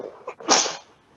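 One short, sharp sneeze comes right after a brief intake of breath. It is close and fairly loud, and a quick fade and silence follow.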